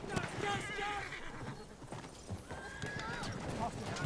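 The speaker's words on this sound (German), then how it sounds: "Erstmal rennt das Pferd hinter einen Baum" A horse in the Battlefield 1 game clip-clops along and neighs, the whinny rising clearly over gameplay effects and battlefield noise at moderate volume.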